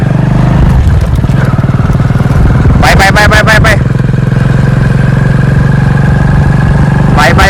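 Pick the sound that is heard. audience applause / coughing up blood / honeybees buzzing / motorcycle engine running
motorcycle engine running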